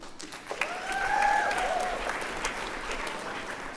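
An audience at a school convocation ceremony claps, a moderate, steady round of applause swelling in the middle and continuing, with faint tonal sounds over it.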